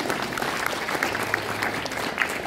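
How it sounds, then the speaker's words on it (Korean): Audience applause welcoming embassy representatives and honorary foreign citizens at a Seoul digital city forum, a steady dense wash of many hands clapping close by with no pauses. "잠시 여러분 박수로 환영해 주시면 감사하겠습니다"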